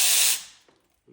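A ratchet on long extensions clicks sharply as it breaks loose a 7mm worm clamp on a 6.7 Powerstroke intake pipe, one loud burst of pawl clicks that quickly fades, followed by a faint tap.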